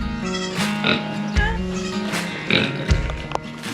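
Pigs oinking on a farm during severe weather chores, several grunts in a short irregular run at moderate distance, mixed with other farmyard noise and some voice-like sounds.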